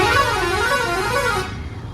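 A loud, sustained car or bus horn blares in busy traffic for about a second and a half, then cuts off, leaving a low street rumble.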